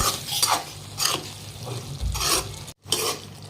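Mushroom masala fried on high flame in a pan, with repeated scraping stirs in an uneven rhythm, close and fairly loud, a low sizzle beneath and a brief dead pause near the end.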